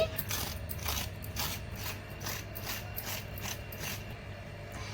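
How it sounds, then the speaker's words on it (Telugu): Bitter gourds being peeled in a home kitchen, a run of quick repeated scraping strokes in an even rhythm, close and fairly quiet over a low steady hum. "ఈ కారకాయలకి ముందుగా ఈ పొట్టు తీసేసుకుందామండి"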